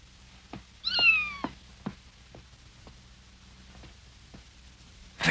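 A kitten gives one clear, rising meow, followed by a few faint ticks and soft thumps in a quiet room.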